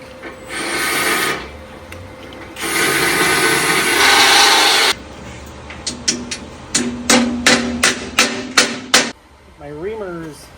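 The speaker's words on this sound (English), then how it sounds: "I now need to ream that" A worn hand reamer sizing holes for brass bushings that hold a grade 8 bolt axle on an eBike swingarm. Two stretches of gritty scraping are followed by a run of sharp, close knocks and taps.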